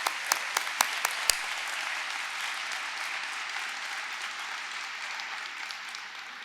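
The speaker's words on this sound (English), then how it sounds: "Give yourselves a round of applause." Graduates at a university business college commencement applaud, a few sharp, close claps opening into a sustained, even roar of crowd clapping that slowly softens.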